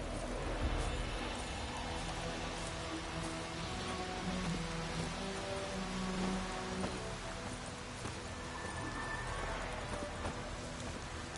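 Steady rain falls in the video game The Witcher 3: Wild Hunt, a constant dense patter on the ground with faint hoof clops and distant ambient tones underneath, no talking.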